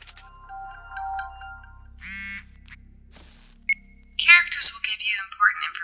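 An incoming-call ringtone in the VR game Contagion VR Outbreak trills in repeated electronic tones, mixed with other tonal game chimes and a voice talking over the end.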